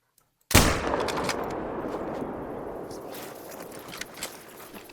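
Single loud rifle shot fired at a Springbok in the Vurhonga Savanna in theHunter: Call of the Wild, a sharp, sudden crack after near silence that leaves a long rolling echo fading over several seconds, with no talking.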